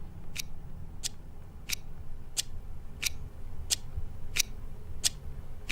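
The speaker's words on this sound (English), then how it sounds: "That's the sound of a clock tick-tick-tocking." A clock ticks steadily, about one and a half sharp, crisp ticks per second, over a soft, low room hum.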